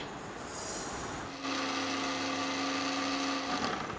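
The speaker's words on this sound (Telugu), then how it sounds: "మిక్స్ పట్టి పొడి వేసుకోవాలి మెత్తగా చేసుకోవాలి" An electric mixer grinder pulverizes roasted ingredients into fine powder for mango pickle, with a short rattle first, then a loud, steady motor whine close by that runs about two seconds and cuts off.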